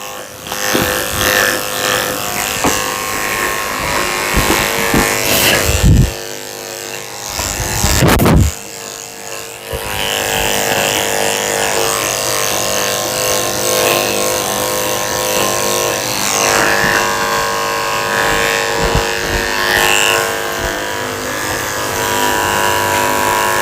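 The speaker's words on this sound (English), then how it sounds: "I'm going to shave all this out before I even get her wet." Electric clippers buzz steadily while shaving the belly hair of an Australian Shepherd at a groomer, the close, loud drone briefly cutting out and restarting before running on continuously.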